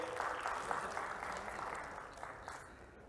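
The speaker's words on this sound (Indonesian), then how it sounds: "berikan aplaus yang meriah" An audience claps for a guest speaker from the Presidential Staff Office (KSP) being invited to the front at a seminar on government digital transformation and bureaucratic reform; steady, moderately loud applause fills the room throughout, tapering slightly near the end.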